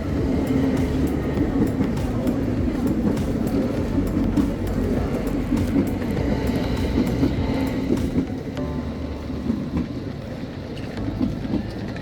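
A crowded passenger train in Algeria rumbles along steadily, with a low continuous roar and rattling of carriages, loud and close, easing slightly toward the end.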